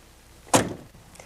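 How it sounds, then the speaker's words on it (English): A single sharp thunk from the side door of a 1986 Ford Aerostar van, a near, loud door impact lasting a moment before a faint trailing knock. "The side door slides rather than swings"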